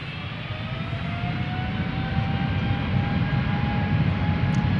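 KLM Boeing 777-300 jet airliner taking off at Schiphol Airport, a loud, steady engine roar with a rising whine, heard from a distance and building slightly without a break.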